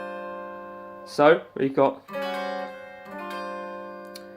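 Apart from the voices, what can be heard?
guitar chord finger stretching exercise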